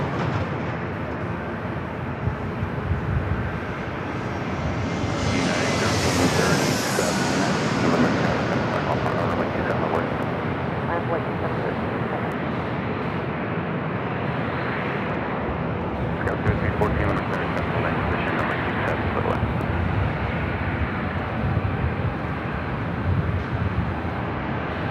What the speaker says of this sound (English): A321neo, next arrival.